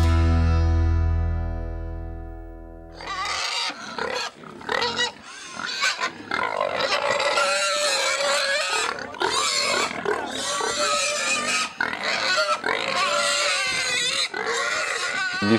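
Large White pigs on a pig farm grunt and squeal in a dense, loud, continuous chorus, beginning after a brief steady tone.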